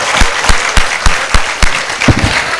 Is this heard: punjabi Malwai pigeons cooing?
no